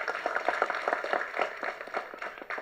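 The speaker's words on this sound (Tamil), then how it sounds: "இதுக்கு ஒரு கைத்தட்ட வேண்டாமா?" An audience claps at a Tamil movie trailer and audio launch event, a dense run of quick hand claps heard fairly faint and at a distance throughout.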